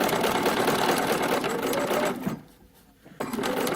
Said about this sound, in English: now I'm going to sink my needle and readjust this so that these line up, and then continue my stitching